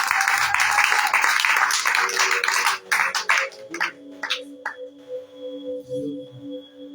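Church congregation applauding at a prayer vigil, a dense burst of clapping for about three seconds that thins into scattered claps with a sustained tone beneath.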